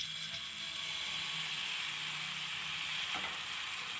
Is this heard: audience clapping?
no